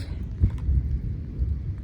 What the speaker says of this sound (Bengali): এত সুন্দর বৃষ্টি নামছে